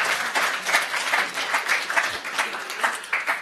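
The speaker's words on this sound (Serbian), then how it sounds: "Molim vas jedan aplauz za mog najboljeg druga" An audience applauds in a hall, a dense even wash of clapping that stays steady for several seconds with little talk over it.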